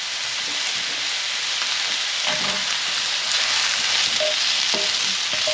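Corn kernels and mushrooms frying in hot oil in a pan for a braised beef cheek dish, giving a steady, fairly loud sizzle with occasional stirring clicks and no talking.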